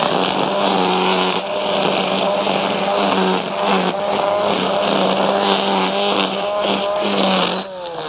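Litheli U20 battery-powered string trimmer running at high speed, a loud, close, steady whine with rising and falling pitch as the line cuts, no voices.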